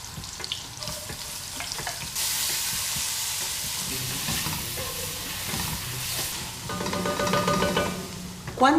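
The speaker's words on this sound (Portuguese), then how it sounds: "E as cebolas vão dourar na manteiga e no azeite" Onions sizzle and fry in butter and olive oil in a pan holding leftover meat drippings for stroganoff. A steady close crackle surges louder after a quieter start, with stirring clatter and brief tapping near the end.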